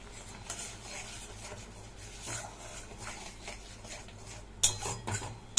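Spice paste being stirred and sautéed in a pan for a Bengali potato dum, with soft scraping and clinking of a spoon against the pan over a low steady background, then a few sharper metallic knocks near the end.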